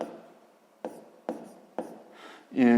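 Numbers written by hand during a sixth-grade maths exercise: a few soft pen or pencil scratches on paper with short taps between them, close and quiet, ending in a brief louder rustle.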